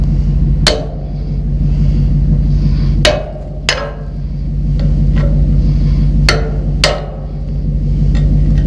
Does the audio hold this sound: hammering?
yes